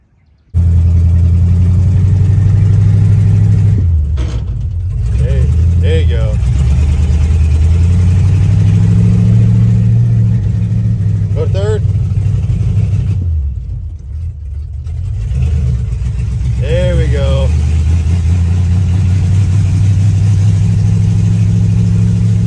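A 1986 Ford F150 pickup truck driving around the block, its engine rumbling loudly and steadily close by, rising and falling with several revs and gear changes, with brief dips as it slows.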